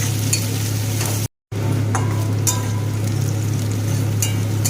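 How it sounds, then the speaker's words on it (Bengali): Onion fries with bay leaves and dried chillies for a green pea curry, a loud continuous close sizzle over a low hum, with stirring scrapes and a brief dropout near the start. "পেঁয়াজের সাথে দিয়ে দেব দুটো তেজপাতা, দুটো শুকনো লঙ্কা। এটাকে পেঁয়াজের সাথেই ভালো করে ভেজে নেব।"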